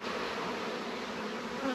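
Honey bees being blown out of hive supers make a dense, loud, steady buzz with a broad roar from the blower, unbroken and close throughout.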